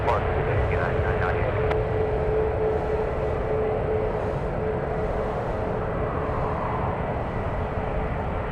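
Boeing 777-200AR heavy jet departing San Francisco for Charles de Gaulle, a steady loud broadband engine roar with a sustained whine, no talk heard.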